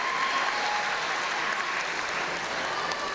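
At a British lead climbing championship final, a large indoor crowd cheers and applauds steadily for two climbers, a dense, continuous roar of clapping heard from within the audience.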